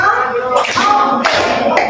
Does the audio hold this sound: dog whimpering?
no